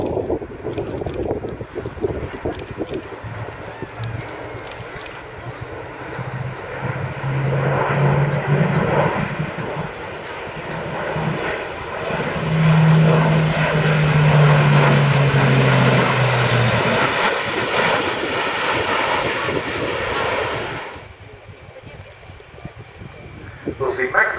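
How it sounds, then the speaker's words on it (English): Airbus A400M with four TP400 turboprops landing with maximum braking and propellers in reverse pitch, a loud swelling roar of engines and airscrews that builds, holds, then cuts away, heard at an airshow. "We'll see maximum braking being applied and also maximum reverse pitch on the propellers."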